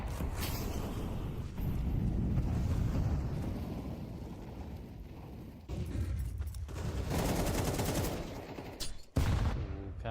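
Dense rapid gunfire in a Counter-Strike 2 match, loud bursts of shots crackling continuously with brief pauses and a sharp gap near the end.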